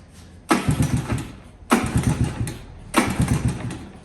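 A 1982 Honda ATC110 engine running on starting fluid sputters in three separate bursts, each catching loudly for about a second before dying away, with a rough, uneven idle-like roar in between.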